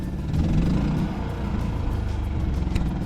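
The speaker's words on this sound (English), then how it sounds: "you hear what's happening with the generator?" A fifth-wheel RV's gas generator runs steadily, a constant low mechanical drone with a slight uneven flutter, fairly close and heard alone without any talk over it.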